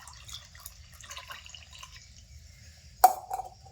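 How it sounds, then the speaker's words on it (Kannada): Colostrum milk is poured into a vessel. Faint drips are followed by one short, sharp splash and a brief trickle near the end, close and fairly quiet, with no talking. "ಗಿಣ್ಣದ ಹಾಲದವು ಇದನ್ನ ಇದಕ್ಕೆ ಹಾಕೋತೀನಿ ರೀ"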